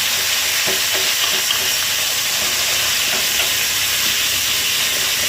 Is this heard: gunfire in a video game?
no